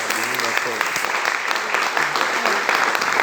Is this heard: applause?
yes